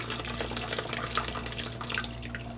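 Remaining water poured gently from a container into crystal-growing kit chemicals, a steady close splashing trickle that continues without pause, with no talking.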